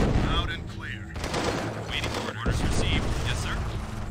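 Bursts of rapid gunfire and explosive impacts as units attack a radar array in the strategy game C&C Tiberian Sun, loud and dense throughout, with a voice speaking briefly over the battle.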